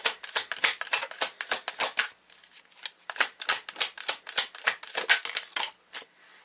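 Tarot cards being shuffled by hand, a steady series of crisp riffling bursts, close and clear, repeating rhythmically for several seconds with no talk.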